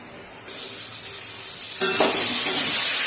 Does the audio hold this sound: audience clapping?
no